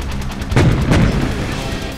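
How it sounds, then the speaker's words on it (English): A sound effect layering gunfire with cannon fire: booming gunshots blend with deep cannon-like blasts, two heavy thumps standing out over a continuous rumbling barrage. "gunfire sound effects are combined with cannon fire"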